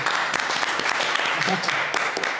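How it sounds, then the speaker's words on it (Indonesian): A studio audience at a podcast breaks into steady, dense applause, many hands clapping together at close range for a couple of seconds with no break. "tepuk tangan"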